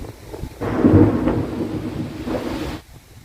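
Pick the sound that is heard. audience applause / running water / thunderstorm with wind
thunderstorm with wind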